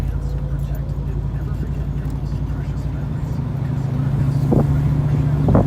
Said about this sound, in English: here we are in the '72 Cougar, and we're going to go for a drive on the freeway.